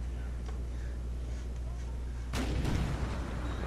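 Howitzer artillery fire in an American Civil War video game set at Wilson's Creek: a steady low rumble of distant battle, then a loud, close cannon boom that rolls on for over a second.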